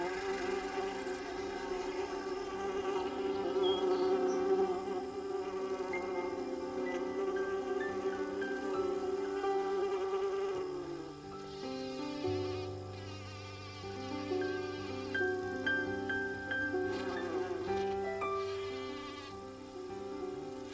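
Honeybee workers buzzing around their hive produce a steady, continuous droning hum with layered tones, close and even in level, heard alone without voices.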